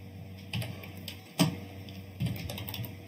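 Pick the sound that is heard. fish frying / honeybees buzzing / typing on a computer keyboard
typing on a computer keyboard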